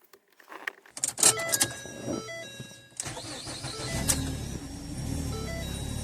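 Car keys jangle near the ignition as a reprogrammed key is tried after an instrument panel replacement, followed by chimes and the engine cranking and starting into a steady idle.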